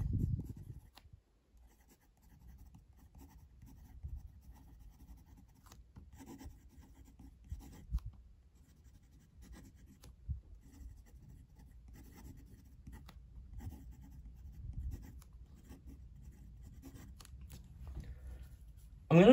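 A Kilk Epigram fountain pen scratches steadily across paper in quiet, close, faint strokes, with soft scrapes continuing throughout and no talk.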